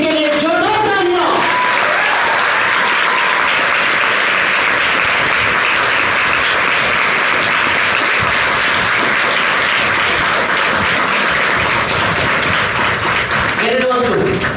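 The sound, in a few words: loud applause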